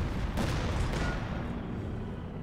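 Aerial bombing run in Company of Heroes 2, with bombs striking the same spot: a couple of sharp blasts early on, then a rumbling, decaying roar of explosions fading gradually, with no voices.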